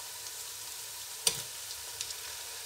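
Chicken pieces go into a pan of lightly browned onions, giving a steady faint frying hiss with one sharp sizzling burst as the meat hits the oil and a smaller crackle a moment later; no one speaks.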